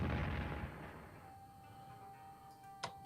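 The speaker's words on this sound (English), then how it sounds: "Artillery." Artillery fire in the strategy game Strategic Command WWII during the Battle of Wuhan, one heavy low boom that fades into a long rumble, then a single sharp click, with no speech.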